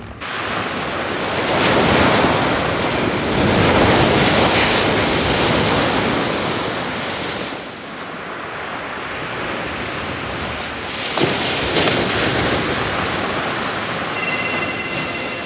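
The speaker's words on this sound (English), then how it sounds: "To the beach." Ocean waves wash onto a beach in a loud, continuous roar of surf that swells and eases in long surges, mixed with wind buffeting.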